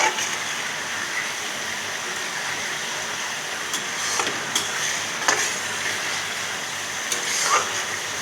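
Mustard and turmeric masala for a hilsa curry sautés in a pan with a continuous hissing sizzle and scattered stirring scrapes, moderately loud and close.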